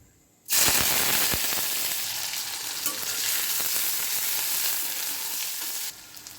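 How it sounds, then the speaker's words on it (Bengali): Bottle gourd frying with dried chilies, chopped onion and green chilies: a sudden loud burst of sizzling as the food hits hot oil, then a dense crackling hiss that holds steady for several seconds before dropping away. "আমি এখন লাউ ভাজিটা করে নেব শুকনা মরিচ দিয়ে দেবো কাটা পেঁয়াজ কাঁচা মরিচগুলো দিয়ে দেবো"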